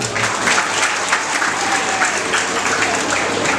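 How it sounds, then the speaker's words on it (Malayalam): A school anniversary celebration audience clapping together in a steady, sustained round of applause that fills a hall, dense and fairly loud without pause. "അതിന് നിങ്ങൾക്ക് മാത്രമല്ല ഇവിടുത്തെ അധ്യാപകന്മാർക്കും കൂടി നല്ലൊരു കൈയടി കൊടുക്കണം"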